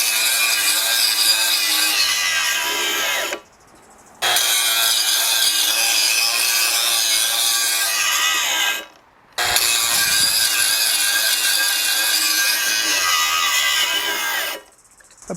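An 18 volt cordless grinder with a trigger handle cuts on a 6 amp hour high output battery, three long loud bursts of high-pitched whine separated by brief pauses where the motor stops.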